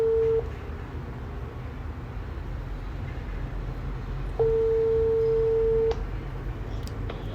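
A phone ringback tone sounds twice, a short burst then a longer steady tone, over a continuous low background hum.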